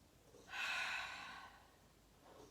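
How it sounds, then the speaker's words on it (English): A long, breathy mouth exhale during a yoga breathing exercise, rising sharply, holding steady, then fading over about a second, with a softer breath starting near the end. "Exhale everything out of your mouth."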